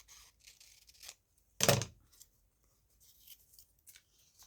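Scissors cut paper for a collage, a single clear snip standing out among faint scattered rustles and small cuts, close and quiet, with no one speaking.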